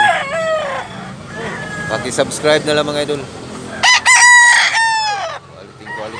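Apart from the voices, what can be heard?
roosters crowing, Tasmanian Hennie gamecocks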